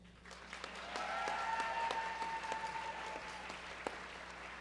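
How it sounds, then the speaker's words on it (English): Crowd at an anime convention's opening ceremony claps for guests, a moderate wash of applause in a large hall with a faint sustained tone running through it and scattered sharper claps. "Please give one more round of applause to our guests from Japan."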